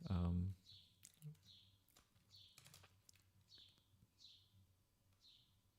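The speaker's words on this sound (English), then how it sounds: "this chirping in the background, this bird, will be on that recording" Outdoors a bird repeats a short high chirp about once a second, five or six calls, faint and distant over a quiet background with a loud thump at the start and occasional soft clicks.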